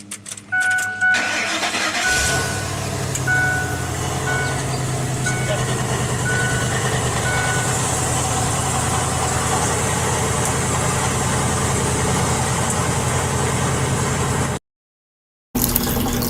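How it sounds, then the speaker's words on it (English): A car engine fed from a water tank and run without electrolysis cranks and catches. It then settles into a steady, loud idle that runs on for many seconds before a brief dropout near the end. "we're going to be able to start it without electrolysis and run this engine"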